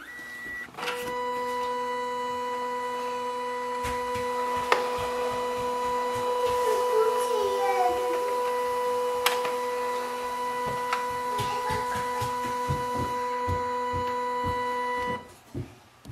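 A Pantum M6559NW printer scans a document, starting with a motor whir that runs as a steady mechanical hum with tonal whine and scattered ticks and clicks, ending with a few clunks as the scan stops.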